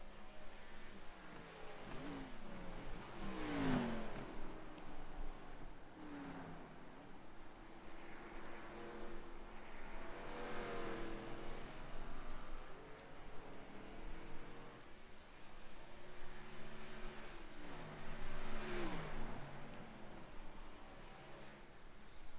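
Race cars in a racing video game at Watkins Glen sweep past one after another, about three faint engine passes rising and falling in pitch over a soft steady background.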